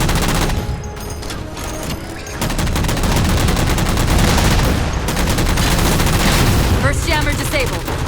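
Continuous rapid gunfire in the video game Halo 4 as the player shoots down jammers, a dense, loud automatic rattle sustained for several seconds with brief shifts in intensity and faint game voices beneath.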